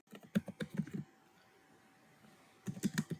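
Typing on a computer keyboard: bursts of quick, close key clicks in an irregular rhythm, then a pause of near silence, then another burst of keystrokes.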